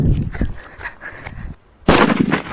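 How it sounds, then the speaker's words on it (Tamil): A large Diwali firecracker bursts with one loud, sharp bang near the end, and a brief crackling tail follows it, after quieter street noise and scattered pops earlier. "அடுத்து அதை விட பெருசு வெடிச்சு பார்த்தரலாம் வாங்க."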